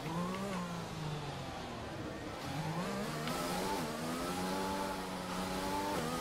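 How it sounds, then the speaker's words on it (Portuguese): Mercedes-powered Formula 1 car engine in the F1 2020 racing game at Bahrain, loud and continuous, its pitch climbing and dropping through gear changes as it revs hard throughout. "Motor Mercedes, que tá alto."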